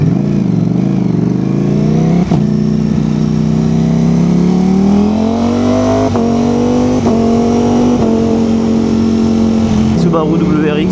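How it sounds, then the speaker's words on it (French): A Subaru WRX passes nearby, its engine note rising and then holding steady as it goes by, loud and close, with people talking over it. "Subaru WRX."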